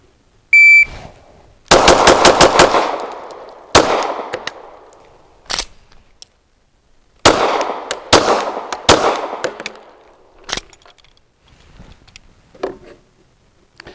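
Glock-style pistol firing in two quick strings of shots with pauses where the gun malfunctions, sharp loud reports echoing briefly, a few scattered single shots and clicks between bursts.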